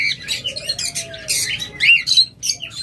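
A pair of green Fischer's lovebirds with high mutation chirping close by in rapid, sharp bursts of squeaky calls and chatter, repeated without pause over a low hum.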